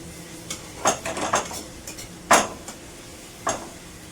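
Ginger-garlic paste stirred in a metal wok: a few sharp scraping clinks of a utensil against the pan at irregular intervals, close and fairly loud, with no talk.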